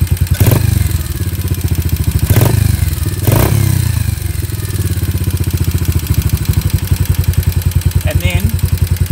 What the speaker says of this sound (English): idle is probably hanging a little bit too much for what I'd like